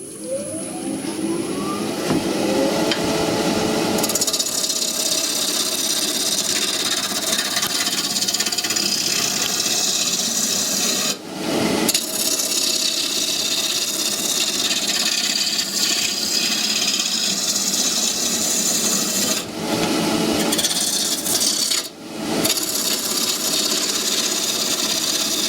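A wood lathe turning spirals and twists, with a continuous rough scraping and whirring from the spinning workpiece, broken by a few short pauses, close and loud.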